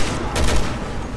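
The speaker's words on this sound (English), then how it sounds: "Sniper rifles are OP." Sniper rifle fire in Resident Evil 6, a single loud close shot with a sharp burst and low boom, trailing into noisy game ambience.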